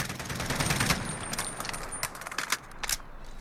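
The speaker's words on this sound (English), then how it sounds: "we're going to fire full auto in prone and see what that looks like" Full-auto bursts from an SR-25 rifle fired prone in Call of Duty Modern Warfare, a rapid string of sharp cracks over a steady background, with one distinct later shot standing out.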